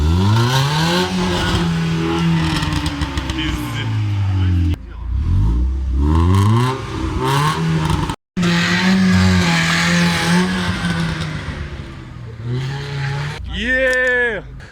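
A 1.8-litre Mercedes-Benz C180 (W202) with an aftermarket exhaust revs loudly in repeated rising and falling bursts, the exhaust roaring close by, with a brief cutoff and a sharp final rev.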